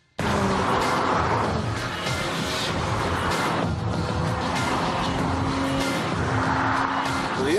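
A Porsche Boxster S with a 3.2-litre engine drives hard, its loud, steady engine roar running continuously with tyre and road noise, close and unbroken throughout.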